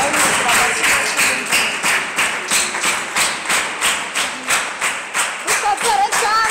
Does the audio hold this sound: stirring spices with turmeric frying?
no